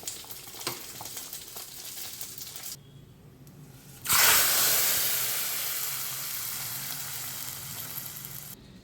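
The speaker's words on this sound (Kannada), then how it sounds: "ಸ್ಟವ್ ಆಫ್ ಮಾಡಿ ಸಾರಿಗೆ ಒಗ್ಗರಣೆ ಕೊಡಿ" Hot oil tempering with spices for a Mangalore–Kasaragod style cucumber curry hits the pot with a sudden loud sizzle. The hiss bursts up after a quiet pause, then fades slowly while continuing to crackle, with no speech.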